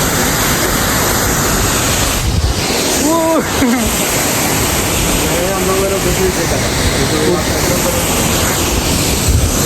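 Athirapally waterfall in Kerala roaring steadily up close, a dense continuous wash of falling water that fills the whole clip, with wind buffeting the microphone and faint voices in the background.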